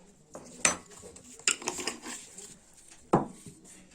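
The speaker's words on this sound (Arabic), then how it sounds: "ونمزج الكل هكذا" Spices and flour for a homemade fried chicken coating stirred in a bowl, with several sharp utensil clinks against the bowl between softer scraping, quiet and close.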